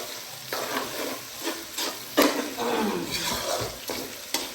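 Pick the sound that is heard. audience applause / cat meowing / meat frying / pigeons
meat frying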